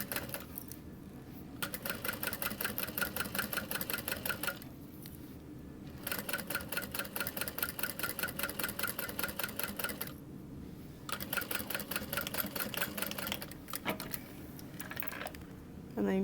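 Close-up sewing machine stitching through thick leather for a convertible backpack, running in steady rapid bursts of mechanical clatter separated by short pauses, loud and close with no talking.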